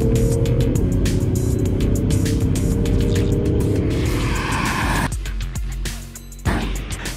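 Several cars, a BMW M550d, a Mercedes-AMG E53 and an Audi A7, accelerate together in a drag race, a loud sustained engine roar that shifts pitch through gear changes and fades as they pull away.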